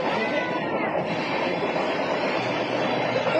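A train runs on its rails during a journey, a loud, steady rumble and rattle heard from inside the carriage throughout.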